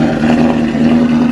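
A 1968 Mustang Fastback with a swapped Coyote V8 running through a Pypes exhaust, a short, loud, close engine burble holding a steady pitch.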